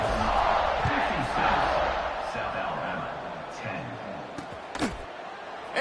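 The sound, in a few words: home crowd cheering at college football game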